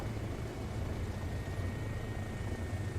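Bo-105 helicopter flying in Microsoft Flight Simulator 2024, a steady low rotor and engine drone holding at moderate level throughout with no voices.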